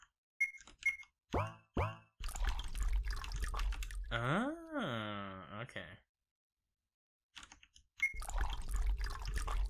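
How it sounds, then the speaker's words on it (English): Spider plants being watered in the video game Spider's Web, with drippy, boingy liquid effects, a rising warbling tone and sustained pouring noise broken by gaps of silence. "Do I water all the spider plants now?"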